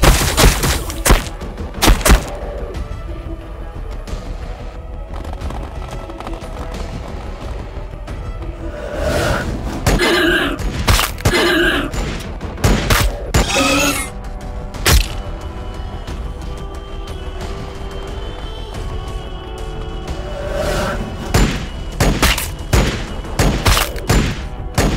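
Bursts of gunfire and heavy thuds from the Warhammer 40,000: Battlesector video game, loud volleys recurring in clusters across a sustained battle soundscape with booms and whooshes.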